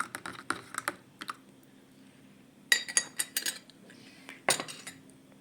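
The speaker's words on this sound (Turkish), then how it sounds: "elimde silme bir tatlı kaşığı nişastayı böyle karıştırıyorum" A dessert spoon stirs starch in a bowl, giving sharp clinking taps of metal against the dish in quick clusters separated by short quiet gaps, close and fairly faint.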